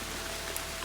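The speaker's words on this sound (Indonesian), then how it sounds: "Hujan." Rain falling in a humid forest on a mountain hike, a steady, even hiss of drops on leaves and ground with no voices.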